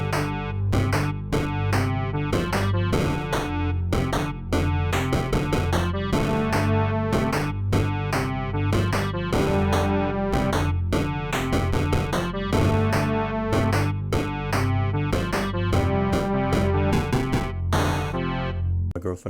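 A basic chiptune-style song made in Bosca Ceoil for a video game, with a steady driving beat, bass line and bright melody looping continuously for about nineteen seconds before cutting off.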